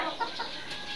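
A chicken under treatment for a cold clucks softly in a short, faint burst of low, throaty sounds with no talking.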